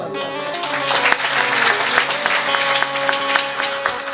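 Devotees at a Vitthal katha gathering clap loudly and continuously, with sustained musical tones ringing underneath the applause.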